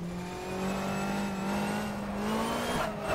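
A Lotus Exige GT3 in rFactor at Targa Florio, driven with a manual shifter through a slide: a steady engine whine rising in pitch, then a brief drop near the end as the gear changes up.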